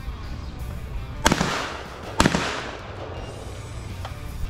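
Two sharp shotgun blasts fired at clay targets on a shooting range, spaced about a second apart and each trailing off in a rolling outdoor echo, followed by a fainter distant shot.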